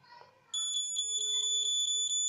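Alarm from a voice-controlled wireless home automation and sensor monitoring system: after a quiet half second, a loud, piercing electronic alarm starts and keeps sounding in rapid, evenly pulsed beeps, close and alone.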